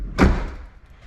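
A truck door shut once with a single solid thud, close and loud, followed by a short fading rattle and quiet.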